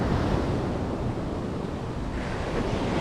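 Ocean waves surge and wash onto the beach at Botolan, Zambales, a steady, loud roar of surf with wind buffeting the microphone throughout, no voices.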